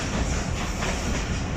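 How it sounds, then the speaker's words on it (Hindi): The Ravi Express passenger train pulls out of Rulala Road railway station with a loud, dense roar of wheels and carriages rolling close by, and no talking. "ट्रेन रूलाला रोड रेलवे स्टेशन से रवाना हो रही है"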